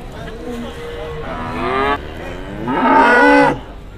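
A very large cow at a livestock market in Rogojampi, Banyuwangi, East Java, lows loudly in a few long, drawn-out moos, the last one deepest and strongest, with crowd murmur in the background.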